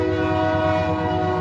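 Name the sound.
train horn of a passing train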